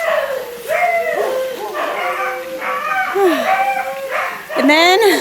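Several dogs at a rural home in Colombia barking, yipping and whining in overlapping bursts, close and loud, with a person speaking briefly over them.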